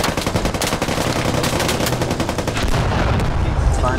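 Gunfire in the video game Squad: rapid bursts of automatic fire crackle densely and loudly, with shots overlapping almost continuously and a heavier, lower rumble building toward the end.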